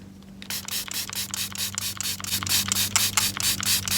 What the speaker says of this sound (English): Found that spritzing it with a spray bottle is much more effective than actually soaking it under the sink.